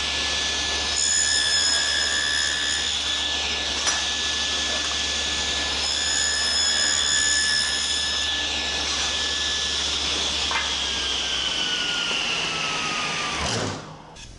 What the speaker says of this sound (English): I'll run the crosscut dado on my pattern